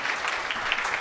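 Audience applause for a man called up to walk to the front at a live event, steady dense clapping throughout at moderate loudness with no talk over it.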